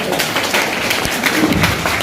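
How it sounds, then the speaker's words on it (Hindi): A seminar audience claps with hands raised at an RCM business event, a dense patter of many hands clapping together up close for a couple of seconds. "एक बार हाथ ऊपर करके ताली बजाइए"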